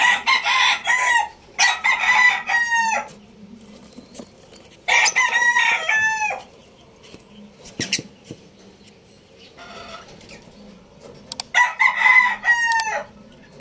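A hen clucking in several bursts of sharp, loud calls, separated by quieter gaps with faint background noise.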